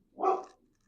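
A single short dog bark, close and fairly loud, with nothing else around it.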